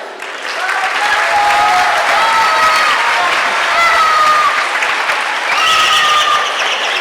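Sustained applause from an audience at a talk on alternative education, dense steady clapping with some cheering, rising quickly and holding loud for several seconds.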